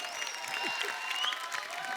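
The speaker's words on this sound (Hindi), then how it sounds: "अनिल के लिए जोरदार तालियां" Studio audience applause on a Hindi comedy talk show, a steady, moderately faint wash of clapping with crowd murmur, while a thin sustained tone and occasional voices sit over it.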